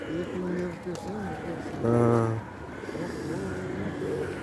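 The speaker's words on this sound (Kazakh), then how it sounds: "Кептерлері қараңыздар." Pigeons coo in a public spot in Turkey where people are feeding them. The cooing is soft and rolling, with one clear coo standing out amid the low hum of a crowd and street noise.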